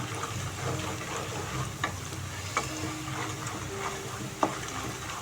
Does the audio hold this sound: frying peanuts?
yes